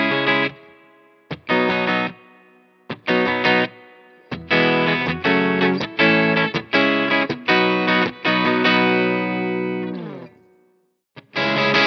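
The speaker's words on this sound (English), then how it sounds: "So the 335 straight into the amp sounds like this." A Gibson ES-335 electric guitar plugged straight into an amp plays a clean tone, with rhythmic chords strummed in bursts and brief pauses between them, ending on a long ringing chord.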